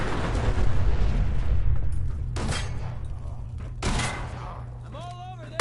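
Gunfire in Fallout 4 as a fight breaks out, with scattered shots and booming impacts over a dense, rumbling background, alongside a low steady hum and voices.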